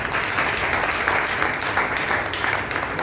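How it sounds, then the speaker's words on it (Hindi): Applause from women in an audience at a talk: steady, dense clapping from many hands that holds for the whole stretch without voices. "जब महिलाओं की बारी आई तो ताली सिर्फ महिलाओं ने बजाई है"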